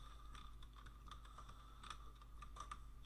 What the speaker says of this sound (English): I type the necessary things